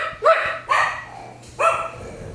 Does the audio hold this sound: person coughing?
no